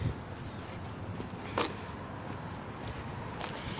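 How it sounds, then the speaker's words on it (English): Crickets chirp in a continuous high-pitched drone against a dense outdoor background, with a couple of faint thuds. "You like crickets."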